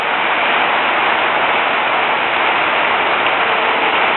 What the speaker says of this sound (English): I don't know if you can see the rain, but I know you can hear it on my roof.